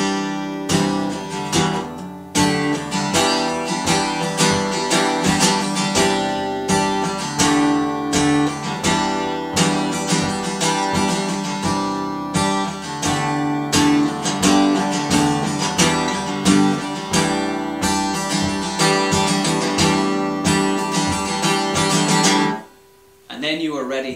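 Acoustic guitar strumming the pre-chorus of a song, a loud, steady rhythmic chord pattern ringing continuously before cutting off near the end.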